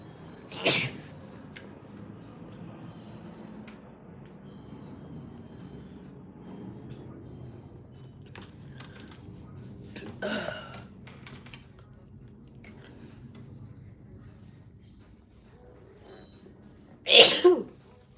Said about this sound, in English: this sneezing is taking a toll on me